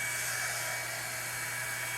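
A hair dryer blows steadily at close range with a constant, even whoosh and a low hum, with no voices over it.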